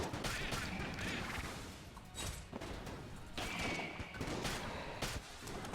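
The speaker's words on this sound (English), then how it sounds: "We can fire 2 bananas by shooting and then immediately reloading." Rapid banana gun shots in the dungeon-crawler shooter Enter the Gungeon, a dense burst of repeated firing and impacts with chaotic game effects running continuously throughout.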